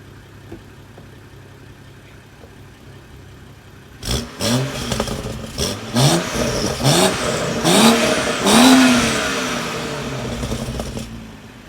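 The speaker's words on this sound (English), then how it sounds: "I'm gonna rev my car with the stock exhaust to see how quiet it is." A BMW car with its stock exhaust sits quietly idling, then gets a series of short, rising revs that climb and fall in quick blips, ending with one longer, fuller rev before settling back down.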